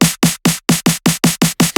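A tight, punchy snare drum sample struck nine times in a steady, evenly spaced rhythm, each loud crack trailing off into a short noisy tail.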